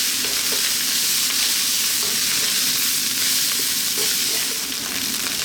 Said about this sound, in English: That's the rice frying.